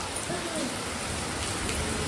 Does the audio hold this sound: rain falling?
yes